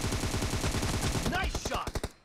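Rapid automatic gunfire in the mobile battle game PUBG Mobile rattles in a fast, even burst of close, loud shots, then slows into a few spaced final shots before cutting off.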